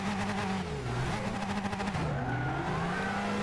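A car engine roars past with a rising then falling pitch, loud and steady, a Gran Turismo 6 vehicle passing close by with revving and tire noise.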